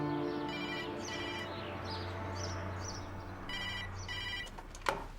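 A telephone rings in repeated double bursts, clear and fairly close, in a quiet home during an anxious wait for IVF egg fertilisation news; a brief knock sounds near the end.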